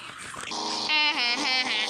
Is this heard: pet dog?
yes